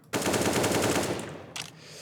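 A loud, sustained burst of automatic rifle fire in CS:GO on the de_jingshen map, shot through a wall, then a short second burst, all close and without speech.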